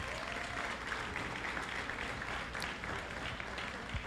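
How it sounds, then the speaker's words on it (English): An audience at a high school graduation ceremony in Petaluma applauds in a steady, even wash of clapping. The sound is moderately loud and sustained, with no voices over it. "Applause, please."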